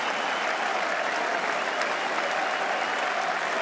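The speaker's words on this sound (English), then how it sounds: "England have won by 2 runs. And applauding the crowd." Cricket crowd at Edgbaston applauds England's win, a steady wash of clapping from a large stadium audience, heard at a distance and without pause.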